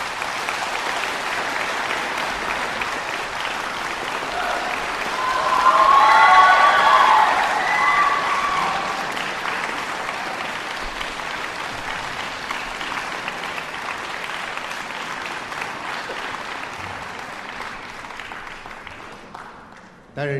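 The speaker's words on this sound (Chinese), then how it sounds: "让我们以掌声欢迎姜建华上场" A concert hall audience applauds to welcome erhu player Jiang Jianhua to the stage. The clapping builds to a peak, then slowly fades and thins out toward the end.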